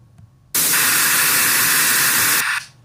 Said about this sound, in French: C'est le bruit blanc.